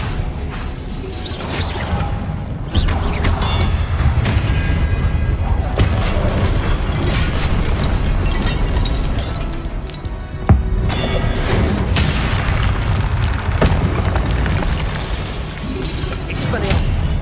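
Confringo blasting spells and other spell impacts burst repeatedly in Hogwarts Legacy combat, sharp booms and crashes over a rumbling battle bed. Someone talks throughout.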